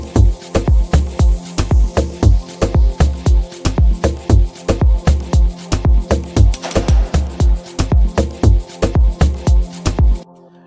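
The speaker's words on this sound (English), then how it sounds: "We start off with a nice pad." A sustained synth pad from the Tube Synth instrument for an Afro House track plays alone, overlaid by a steady, loud pulsing pattern of repeated hits about every third of a second, with no voices.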